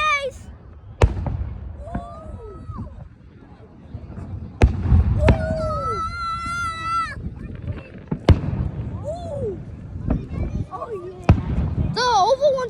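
Fourth of July fireworks with loud oval-shaped shells burst in a series of sharp, booming cracks, some trailing whistles and crackle, while people talk throughout.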